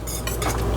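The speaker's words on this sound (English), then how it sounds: "give it a little bit of a stir" A spoon stirs chorizo sauce in a pot on a stovetop over medium-low heat, giving a brief scraping, clinking stir that sounds close and moderately quiet.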